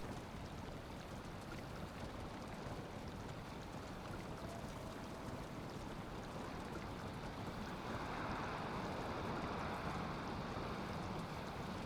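Steady rain in the Valheim video game, heard from under shelter as a constant broadband wash with a wind-like roar that swells slightly toward the end, no voices present.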